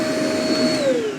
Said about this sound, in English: this Rapido comes with a built-in vacuum